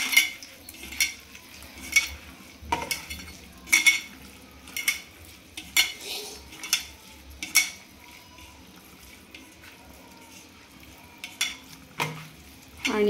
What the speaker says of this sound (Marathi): आता पाणी टाकून आजी त्याला आता गरगरीत शिजवून घेत आहे